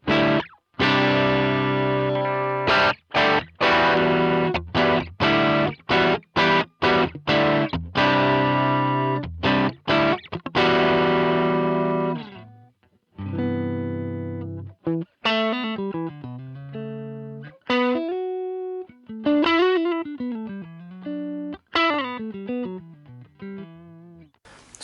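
Distorted electric guitar played through a modelled Supro amp paired with a 1x10 cabinet in a Line 6 Helix, first loud chugging chords in rapid stabs, then a gap and single-note melodic lines with bends, alone with no talk.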